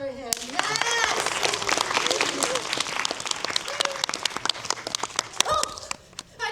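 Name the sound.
audience applause at a museum show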